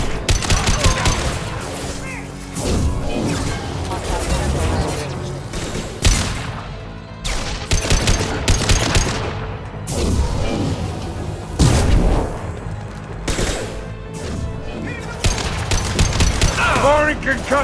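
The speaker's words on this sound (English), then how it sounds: "Firing concussive shot!" Concussive shot weapon fire during combat in Mass Effect: Legendary Edition on PC, repeated booming blasts and gunfire volleys in irregular bursts over dense battle noise, with voices calling out between the explosions.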